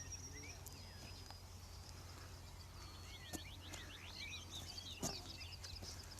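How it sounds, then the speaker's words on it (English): Birds singing on a quiet hilltop in the English countryside, several distinct chirps and trilled phrases rising over a faint steady background hum, distant to mid-range and fairly soft. "one thing you can hear is all the birds"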